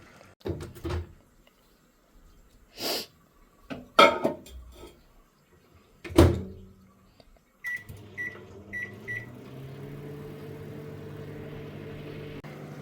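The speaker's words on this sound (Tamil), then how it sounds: "இதை மைக்ரோவேவில் ஒரு ஃபியூ மினிட்ஸ் வச்சு லைட்டாக வேக வச்சு எடுத்துன்ட்டு" A microwave oven cooks cut beans in a home kitchen, its start beeps followed by a steady low hum and whir; before it starts come scattered clatters, a door clunk and cupboard knocks.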